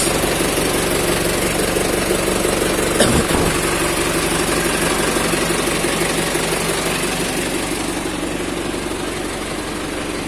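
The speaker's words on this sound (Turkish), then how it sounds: "Onun dışında traktör şu anda ısındı diyebiliriz." A Tümosan 8195 diesel tractor engine, warmed up after sitting unused for three months, idles steadily at close range, a low continuous rumble with a brief knock near the start.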